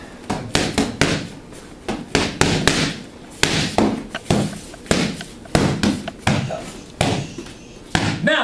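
Rapid punches thud against a heavy bag in quick bursts of two to four hits, with short pauses between combinations, loud and close.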